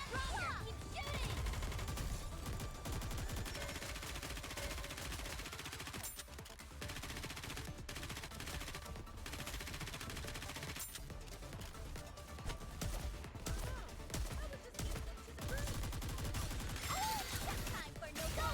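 Continuous rapid-fire shooting in Goddess of Victory: Nikke, a thick barrage of machine-gun bursts with a few short pauses, loud and near, layered with battle music and occasional character voice lines.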